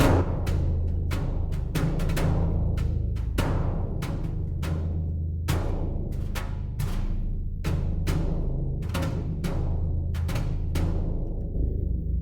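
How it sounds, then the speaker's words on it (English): Sampled brush percussion from the Stormdrums 2 library, played as a steady sequence of crisp sweeping and tapping strokes over a sustained low drum tone, close and fairly loud with no voices. "We're going to open up brush percussion,"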